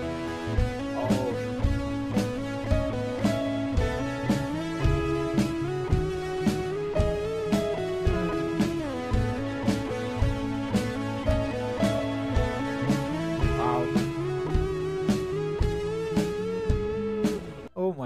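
A band plays a song live, steadily with a prominent bass line and guitar over a regular drum beat, full and continuous for the whole stretch, with no talking.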